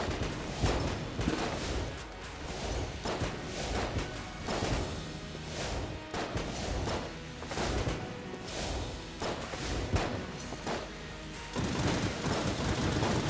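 Gunfire and explosions in Enter the Gungeon: dense, rapid bursts of shots and thumping blasts crowd the whole span, with short gaps and renewed volleys.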